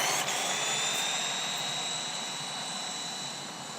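A GPTOYS S916 budget RC car's electric motor whines at high pitch in a steady, loud drone during a speed run, with no voices.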